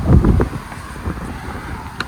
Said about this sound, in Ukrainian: Вітер, звісно, такий на вулиці.